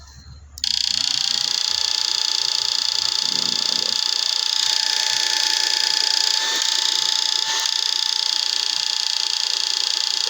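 A steady, high-pitched electrical whine from a MOSFET inverter running into a bucket of water at 30 Hz, with a bubbling, fizzing undertone, starting abruptly and holding constant with slight pitch shifts, close and loud.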